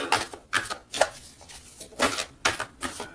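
A deck of tarot cards being cut and shuffled by hand in a quiet room. About seven short, crisp papery slaps and riffles come in an uneven rhythm, close and fairly soft, with no talking.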